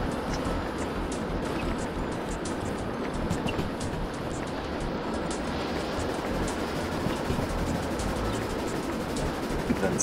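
A heavy freight train in Derail Valley rolls steadily along the track, a continuous dense rumble with faint rhythmic clicks, fairly close and alone without talk.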